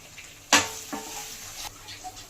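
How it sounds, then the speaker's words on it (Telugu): Small tomato pieces with turmeric and salt are fried in a pan for a Chettinad chicken curry, giving a sharp hiss as they hit the oil, then a quieter steady sizzle with a few soft stirring scrapes. "చిన్నవి 2 టమాటా ముక్కలు, కొంచెం పసుపు, కొంచెం ఉప్పు వేసుకొని మెత్తబడే వరకు వేయించుకోవాలి"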